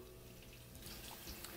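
Tap water running in a sink over a computer motherboard being rinsed, a steady soft hiss that stays faint and even throughout.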